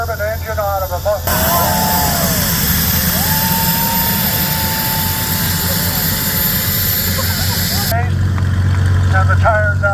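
A loud, steady jet turbine roar from an orchard tractor fitted with a jet turbine engine, in an antique engine museum parade, holds for several seconds, with someone talking just before it starts and again as it drops away.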